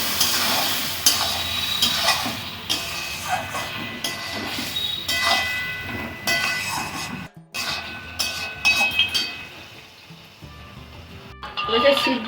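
Mutton with tomato paste stirred and fried in a pan, a continuous sizzle with scraping spoon strokes in uneven rhythm, a short break midway, with a voice talking over parts of it.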